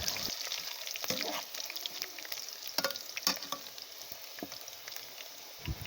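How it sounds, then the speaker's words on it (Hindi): Potatoes and onions fry steadily in a pan for an aloo biryani, a soft continuous sizzle broken by scattered crackles and a few sharper pops, close up with no voices. "जो प्याज है वो भी कम्प्लीटली फ्राई हो चुके हैं और जो आलू है वो भी"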